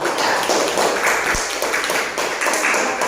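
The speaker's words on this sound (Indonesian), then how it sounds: "Kita beri tepuk tangan untuk kelompok" Applause for a presenting group in a classroom, a dense, steady wash of many hands clapping that fills the room evenly from start to finish.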